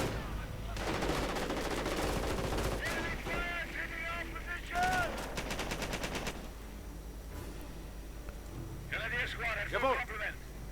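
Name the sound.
infantry machine gun fire in a real-time strategy video game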